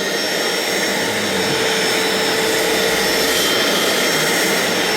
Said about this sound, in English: try to vacuum up what I've already put down